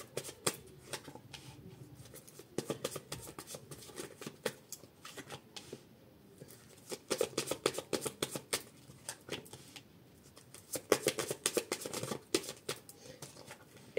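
Tarot cards shuffled by hand in a long series of crisp riffling bursts and soft flicks, repeated through the stretch with short pauses, close and fairly quiet with no talk.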